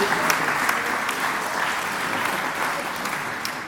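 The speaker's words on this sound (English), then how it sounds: "Give yourselves a round of applause." Conference attendees at a leadership summit give themselves a round of applause, a steady wash of many hands clapping at moderate volume with a few sharper claps standing out.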